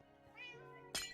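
A house cat meows once softly in a quiet room and then gives a sharper, louder cry at the end, close by with no talking over it.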